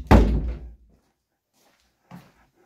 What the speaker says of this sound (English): I'll shut the door behind me a moment.